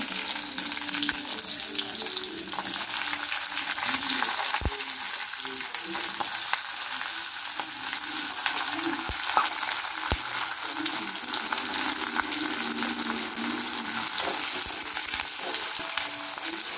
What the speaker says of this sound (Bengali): তেল গরম করেছি, পেঁয়াজ কুচি